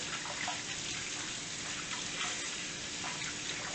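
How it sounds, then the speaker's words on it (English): Tap water runs steadily into a kitchen sink while hands are washed after handling barbecue chicken for the air fryer, a continuous close splashing rush with no talk. "you have to wash your hands from all that stuff there. So wash your hands."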